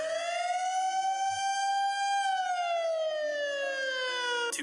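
A WS 3000 siren wails loud and close, one long harmonic tone rising slightly and then sliding downward, ending in a brief burst at the close.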